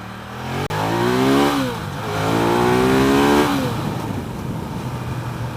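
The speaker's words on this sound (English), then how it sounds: "Man, you really hear it when you gear down." Ducati Diavel Carbon Edition motorcycle engine revving hard and dropping through gears, two loud rising-and-falling sweeps close by, followed by a lower steady rumble.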